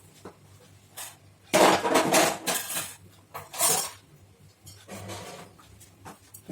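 Curry leaves and other ingredients being stirred together in a cooking vessel for a Tamil-style kuzhambu, with bursts of metal-on-metal scraping and clinking of a ladle against the pot, a few loud clusters separated by quieter pauses.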